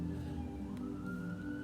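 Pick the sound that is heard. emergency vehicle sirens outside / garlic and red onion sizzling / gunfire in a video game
emergency vehicle sirens outside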